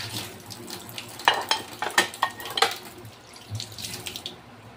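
Dishes washed in a small kitchen sink, with running water from the tap and irregular clinks and clatters of dishware, close and moderately quiet.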